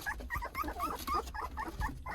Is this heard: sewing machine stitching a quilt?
no